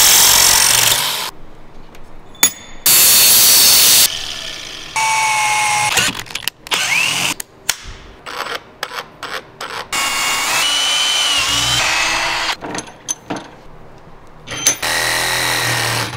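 A power grinder fitted with a buffing wheel scrubs an excavator, running loud and close in harsh stop-start bursts with abrupt cuts and whining pitch changes, and no voices.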